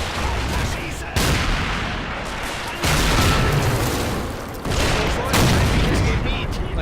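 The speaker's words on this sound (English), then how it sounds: "it looks like they're finally starting to shoot at this guy" Sustained battlefield gunfire and booming blasts from the Men of War: Assault Squad 2 video game, loud dense fusillades broken into surging sections with abrupt changes.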